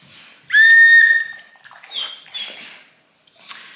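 Whistle bought to call a dog, a short clear piercing tone blown once near the start, followed by a few softer squeaky chirps and rustles, close and loud with no talk.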